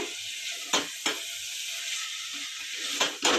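Vegetables for a vegetable pulav, including potato, sizzle in a pan as they are stirred, with a steady frying hiss and a few sharp scraping stirs, close and fairly loud with no talk.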